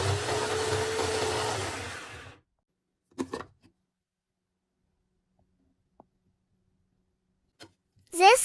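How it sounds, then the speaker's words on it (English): An electric grinder whirs loudly for about two seconds as it grinds chicken wonton filling with fresh coriander, then cuts off into near silence broken by a few brief knocks and clicks. "Time to grind them together."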